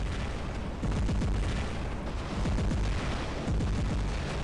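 The Haechi robot's weapon in War Robots fires in rapid succession as a dense, continuous barrage of booming low thuds over a roaring battlefield wash, loud and unbroken.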